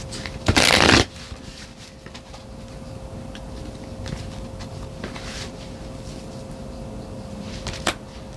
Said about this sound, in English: I'm just going to pull one or two more cards to tie this together